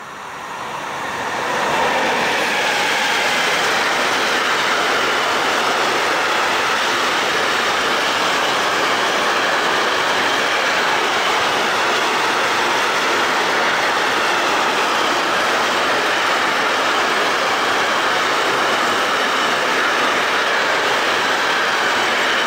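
A Mars Logistik freight train passes at Bäumenheim, hauled by a Class 66 or BR 232 diesel locomotive, with a loud, steady broadband rumble of wheels and wagons that holds almost unbroken for over twenty seconds, no voices.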